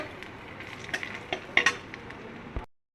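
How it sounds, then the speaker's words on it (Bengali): Bay leaf and dried chilli sizzle and crackle steadily in hot mustard oil in a pan, a close, continuous frying hiss with small pops and a few utensil clicks, ending abruptly. "সর্ষের তেলের উপরে দিলাম তেজপাতা, একটু শুকনো লঙ্কা"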